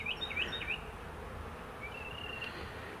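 Honeybees in an open hive produce a faint, steady buzzing drone, with a few brief high chirps near the start.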